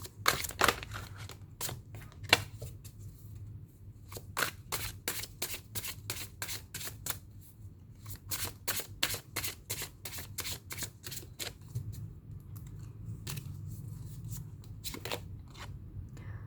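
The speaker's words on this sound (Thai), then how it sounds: "แม่หมอขอเปิดไพ่สำหรับนี้ให้คุณ3ใบนะ" Tarot cards being shuffled and drawn for a reading, a long run of quick crisp riffling snaps in bursts with short pauses, close and fairly loud over a low steady hum, with no talking.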